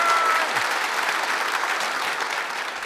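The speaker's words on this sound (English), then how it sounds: "the Gauls applaud me for that" Crowd of Gauls applauding Caesar, a dense, sustained patter of many hands clapping at steady loudness throughout.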